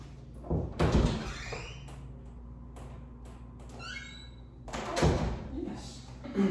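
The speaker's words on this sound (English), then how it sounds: "Opening the door." A door is opened during indoor dog training, producing a couple of dull thuds and knocks a few seconds apart over a low, steady room hum.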